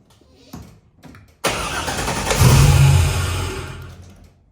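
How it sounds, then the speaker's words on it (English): A 6-litre LS V8 swapped into a Ford F100 cranks loudly for several seconds with a steady churning drone that rises midway, turning over without catching or running. "Turns over but doesn't run."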